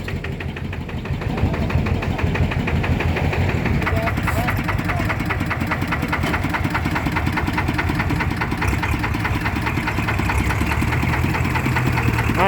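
A diesel engine idles with a steady, rhythmic knocking clatter, close and loud throughout, with people talking faintly in the background.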